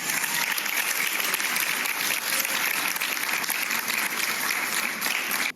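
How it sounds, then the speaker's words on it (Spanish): An audience at a TEDx talk claps for a speaker, a loud, even wash of many hands that holds steady throughout and stops abruptly at the end. "Démosle un fuerte aplauso a Eli, por favor"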